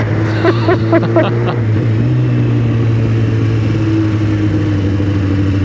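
A car drives over a rough, badly surfaced road, its engine rumbling steadily and close by, with a brief voice-like sound near the start.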